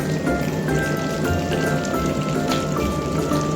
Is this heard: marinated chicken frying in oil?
yes